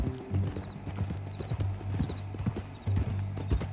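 Horse hooves clip-clop at a steady walking rhythm in Red Dead Redemption 2, close and fairly quiet, with a low rumbling background beneath the repeated hoofbeats.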